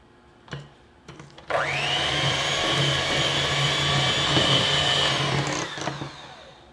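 An electric mixer creams butter and sugar for white chocolate macadamia nut cookie dough, whirring in one loud, steady run for about four seconds, with brief clunks from the bowl just before and after.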